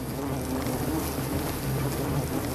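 A dense, steady drone of wild bees swarming around a hive inside a hollow tree fills the air, loud and continuous with a low humming undertone.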